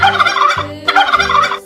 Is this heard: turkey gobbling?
yes